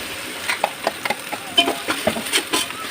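Onion paste being stirred and sautéed in a pan while making Kerala-style beef stock rice, with a steady soft sizzle broken by repeated close scraping strokes of a spoon, no voices.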